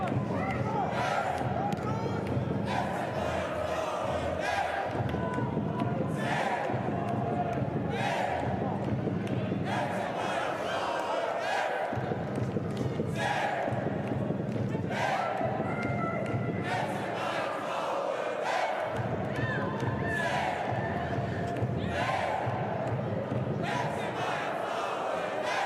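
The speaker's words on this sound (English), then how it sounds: "also in the healthy crowd in Munich today" A football stadium crowd in Munich at a women's Bundesliga match between Bayern München and VfL Wolfsburg: a steady, distant murmur of spectators with occasional swells of chanting, heard under continuous commentary.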